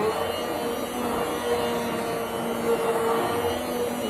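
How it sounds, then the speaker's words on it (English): Secondhand handheld blender whirring steadily as it stirs hot plum jam, a continuous motor drone with a faint tonal whine holding level throughout. "I'm using my handheld blender that I got from Goodwill to stir this up"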